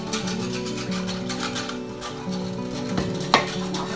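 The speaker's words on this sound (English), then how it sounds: "So I'm going to take my beef stock and put about a cup in there. And get up all of those little bits and pieces that stuck to the bottom of the pan." Beef stock poured into a hot pan to deglaze it, a utensil scraping and stirring stuck bits off the bottom amid a steady close sizzle, with one sharper scrape near the end.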